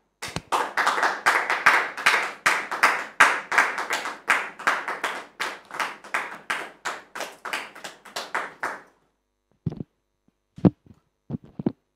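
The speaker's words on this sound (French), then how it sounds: "sous vos applaudissements" A studio audience bursts into sustained applause for several seconds, then it cuts off abruptly, leaving a few isolated claps and knocks.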